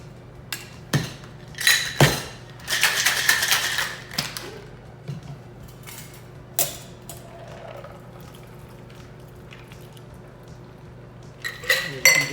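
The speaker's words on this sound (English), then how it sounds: "and some ice in our mixing glass" Ice cubes dropping and clinking into a mixing glass for a whiskey ginger cocktail, a series of sharp, close, bright rattles and taps in uneven bursts, with a longer jangling cluster in the middle and quieter gaps between.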